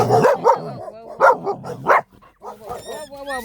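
A husky mother dog lets out a series of loud, close barks and yips in quick bursts, followed by higher whimpering squeals near the end.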